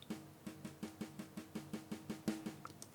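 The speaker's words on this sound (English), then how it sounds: "it's drums and percussion, acoustic drum kit, studio brush kit." Logic Pro's acoustic studio brush drum kit, from a Rick & Morty theme remake, plays soft, even brushed snare strokes in a quick steady pattern. The strokes are quiet and close, with a slightly stronger accent near the end.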